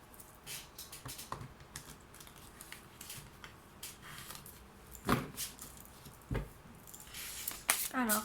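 Tarot cards being shuffled up close, a run of quick riffling flicks and soft slaps in uneven bursts, with a few louder snaps near the end.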